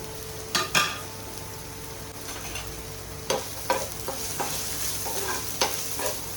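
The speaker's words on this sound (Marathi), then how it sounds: "दोन चमचे बारीक चिरलेला कांदा त्या तेलात घेऊन चांगला परतायचा" Finely chopped onion fries in oil with ginger-garlic paste, cumin and bay leaf, a soft continuous sizzle punctuated by sharp clinks and scrapes of a spoon stirring the pan.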